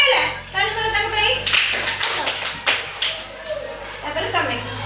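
Children clapping their hands in a counting activity, a few scattered claps and taps mixed with children's and an adult's voices talking over them.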